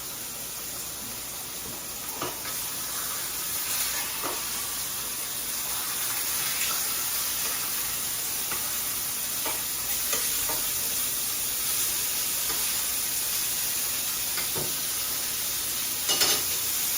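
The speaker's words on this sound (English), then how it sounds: "I'm at home cooking the finest quality grass-fed beef." Grass-fed beef sizzling in a pan at home, a steady continuous frying hiss with occasional sharper pops and crackles, heard close up with no voices.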